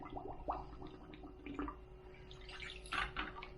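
Well water pours from a bucket onto young comfrey plants in cups, giving irregular splashes and trickles in uneven bursts, fairly close and moderately loud, with a steady low hum underneath.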